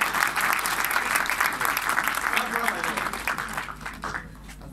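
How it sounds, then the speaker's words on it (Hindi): Audience applause at a school farewell party for class 10 students fills the clip, dense and continuous clapping that gradually fades out near the end. "इसके लिए भरपूर तालियां।"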